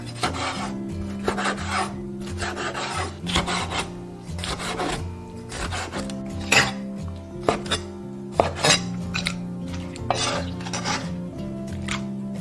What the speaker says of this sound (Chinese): 把墨鱼切成小块，等一下比较好炸。